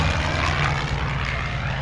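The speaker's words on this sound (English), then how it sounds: "Is that a plane still flying around? That's an airstrike." A loud, continuous roar of an airstrike aircraft engine droning close overhead in the video game Call of Duty: Modern Warfare, a dense steady rumble with no voices.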